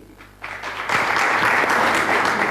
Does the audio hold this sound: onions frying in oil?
no